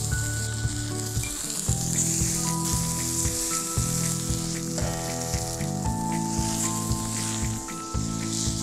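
Bacon sizzling on an outdoor grill at a country house during breakfast cooking, a steady, close, crackling fry with small pops throughout.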